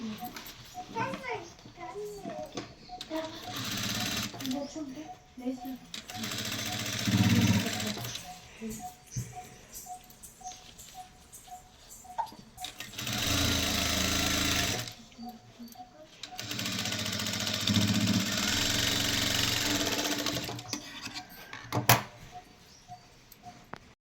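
A sewing machine stitches handles onto a handbag in several loud, whirring bursts separated by pauses, with a voice and other talk heard in between.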